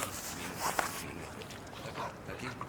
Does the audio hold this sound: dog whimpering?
yes